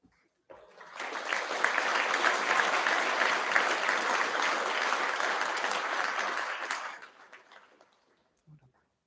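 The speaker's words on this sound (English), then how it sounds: "And another round of applause for Logan before he goes and gets his photo." Sustained applause from a school assembly audience at a Year 12 and 13 prize giving, building quickly, holding steady for several seconds, then tapering off, followed by a brief voice.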